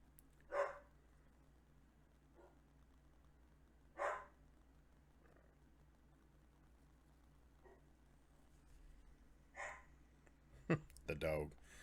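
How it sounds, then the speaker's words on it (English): A dog barks in separate bursts, three or four sharp barks spaced seconds apart against a quiet background, with a person talking at times. "The dog. That's a loud bark, huh?"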